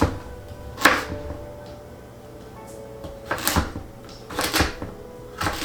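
Onions being chopped into big, hearty chunks with a knife on a cutting board for chicken and dumplings: a few separate sharp knocks, widely spaced with quiet gaps between them, close and fairly loud, with no talking.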